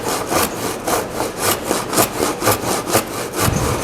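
Hand saw cutting wood trim for a Torah table, a steady rhythmic rasp of back-and-forth strokes, about two per second, loud and close with no talking.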